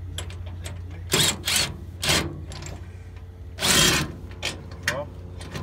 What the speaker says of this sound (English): And then you drill that one in.